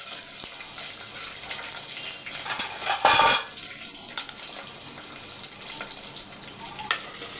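Garlic, curry leaves and green chillies sizzle in hot oil with a steady hiss, broken by a brief louder burst and a few scrapes and clinks of a spoon against the pan.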